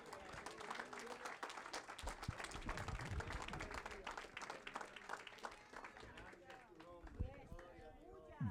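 A church congregation applauds a visiting evangelist, dense clapping and crowd noise filling the room, fading after several seconds while a voice talks over it.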